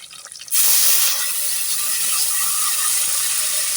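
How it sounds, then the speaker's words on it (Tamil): Tamarind water poured into a hot clay pot of oil for fish curry sets off a sudden loud, continuous sizzling hiss that keeps going close up after a quieter start. "புளி தண்ணியை மட்டும் தனியாக ஊற்றுறோம்."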